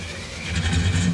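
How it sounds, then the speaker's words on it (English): A car motor starting up as a radio drama sound effect, a short low engine churn that swells slightly and keeps running close and steady. "The starter in my car won't even turn the motor over."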